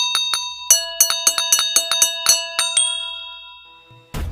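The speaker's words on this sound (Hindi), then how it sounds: "तभी पूरी हवेली में एक साथ हजारों घंटी की बजने की आवाजें आने लगी।" A haunted-mansion horror story sound effect of many bells gives about a dozen clear, bright dings in quick succession. Each one rings out and decays, and the strikes fade toward silence.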